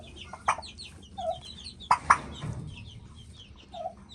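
A mother turkey in a coop with young chicks gives soft clucks and peeps, scattered short calls near and fairly quiet, with a few louder bursts.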